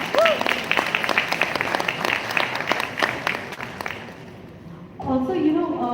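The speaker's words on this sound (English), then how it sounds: "Can we have a round of applause for that?" Studio audience applause on a live FM radio talk show: a crowd claps briskly for about four seconds, then it fades away and a voice begins speaking.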